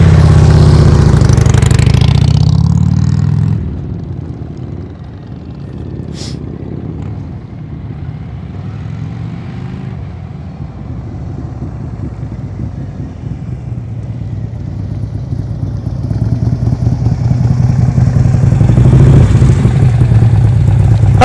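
A motorcycle engine idles loud and close at first, then drops lower as the bike pulls away during slow-speed riding practice, and the engine swells again toward the end as it nears.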